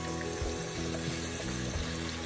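Raw chicken pieces dropped into a hot pot for curry chicken, giving a dense, continuous sizzle and crackle with wet spattering, fairly loud and close with no talking.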